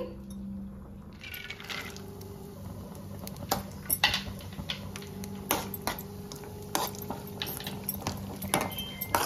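Cashews and almonds frying in ghee in a pan, with a steady low sizzle under repeated sharp clinks and scrapes of a spoon against the metal pan, close and fairly loud, no talking.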